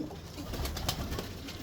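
Pigeons perched in a loft give low, muffled coos, faint and steady beneath a noisy background, with a few brief sharper sounds.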